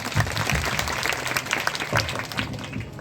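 Crowd applause welcoming guests to a Buddhist gathering at a vihara, uneven clapping from many hands that rises and falls over a few seconds at moderate loudness.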